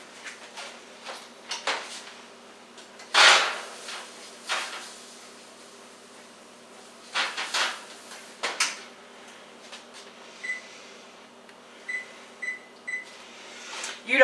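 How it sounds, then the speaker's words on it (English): A home kitchen oven door is opened and a tray of unshucked corn is set inside for roasting, giving a few sharp clanks and knocks spaced apart, with quiet beeps near the end and moments of talking. "So I'm going to go ahead and put this in the oven"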